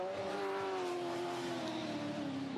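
Mad Mike's Mazda MX5 drift car at Formula Drift Atlanta 2015, its engine droning steadily and loudly as it accelerates away, the pitch sliding slightly downward over a few seconds.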